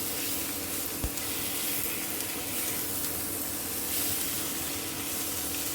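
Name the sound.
chopped tomato cooking in a pan with dried fish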